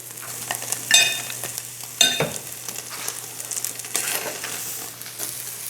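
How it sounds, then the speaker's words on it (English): Steak sears in a hot pan with a steady, close sizzle, broken by a couple of sharper scraping stirs and clatters near the start. "Just searing the outside."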